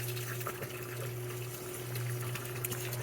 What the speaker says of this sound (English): So now you're seeing the water's rising.